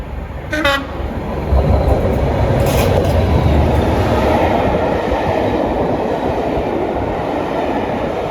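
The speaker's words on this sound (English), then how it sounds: "The train now approaching platform 1 doesn't stop here." A train passes nonstop through a London station platform, a loud sustained rumble and roar of wheels that swells in after a brief high squeal or horn-like toot near the start.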